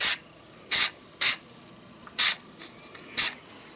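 Lanolin wool grease hisses out of a spray can onto the parts of a miniature hit-and-miss engine in five short bursts, close and loud, separated by quiet gaps.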